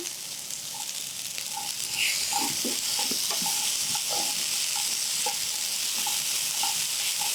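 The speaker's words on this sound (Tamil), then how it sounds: "சுண்டலை வந்து அதிக நேரம் ஃப்ரை பண்ணக்கூடாதுங்க" Chickpea sundal fries with a ground paste in a pan, giving a steady soft sizzle broken by repeated light scraping and stirring taps from a utensil.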